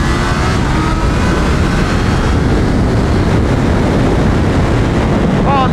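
A loud, continuous roar of a Kawasaki ZH2 motorcycle engine and rushing wind at speed on a racetrack, with a rising whine of revs underneath.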